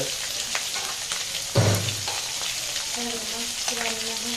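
Fish frying in a pan during home cooking, a steady close sizzle and crackle with a thump and a brief louder flare partway through, no clear talk over it.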